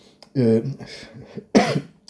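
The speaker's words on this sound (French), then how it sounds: "Pardon, je tousse, excusez-moi." A single harsh cough bursts out, followed shortly by a second rougher cough, close to the listener with no talking around them.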